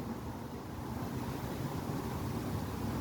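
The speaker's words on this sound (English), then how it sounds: "The wind's blowing. Wind's blowing crazy." Strong wind during a thunderstorm roars steadily outdoors, a continuous broadband rush with buffeting against the microphone and no voices.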